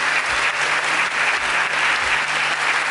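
A crowd at a city hall gathering gives loud, sustained applause, dense and steady throughout, welcoming a visiting youth delegation from abroad.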